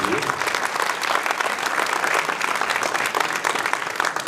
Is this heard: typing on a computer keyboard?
no